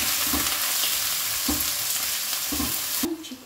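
Chicken pieces sizzle and fry in hot cotton oil in a home kitchen pan, a steady loud crackle broken by a few stirring scrapes, with no talking.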